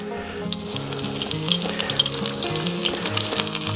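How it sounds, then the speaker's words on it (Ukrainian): Fish fries in hot oil in a pan with a steady close sizzle and spitting crackles while music plays underneath. "і зараз будемо смажити"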